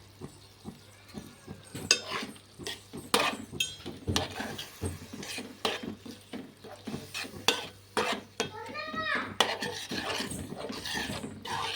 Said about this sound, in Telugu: కారం ధనియాల పొడి గరం మసాలా పొడి ఇవన్నీ ఒకసారి వేసుకొని కలుపుకుందాం